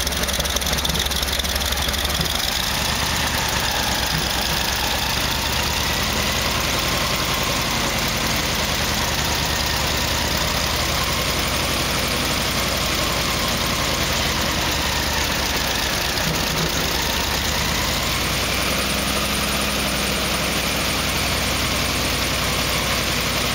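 An engine held at raised RPM above idle to warm up, running loud and steady for over twenty seconds, a close, continuous mechanical drone with faint knocking texture and no voices.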